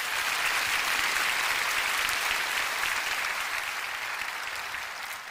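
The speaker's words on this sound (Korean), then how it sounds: "우리 하나님께 영광의 박수 올려드리겠습니다" A church congregation at a prayer gathering gives sustained, even applause, a dense wash of many hands clapping that fades slightly toward the end, with no talk over it.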